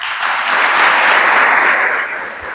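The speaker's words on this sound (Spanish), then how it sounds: "queremos que le demos un fuerte aplauso." Church congregation applauding during Sunday Mass at a parish, a loud, dense round of clapping that swells and holds steady before easing off slightly, with no talking over it.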